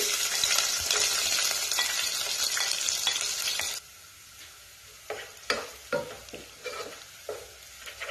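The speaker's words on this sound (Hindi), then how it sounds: "ऑयल डालने के बाद जब ऑयल गर्म हो जाए तो सबसे पहले हमने प्याज फ्राई करना है।" Onions fry in hot olive oil for chicken korma, a loud, dense sizzle that suddenly drops to a quieter crackle, then spaced spoon clacks and stirring scrapes against the pan.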